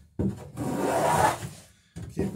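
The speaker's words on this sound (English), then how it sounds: "we'll put a little bit of a chamfer along the edge of this rail." The edge of a wooden rail on a Chamberlain Alpha Dory is chamfered in a boat shop, with a couple of distinct close wooden shaving strokes separated by brief silences.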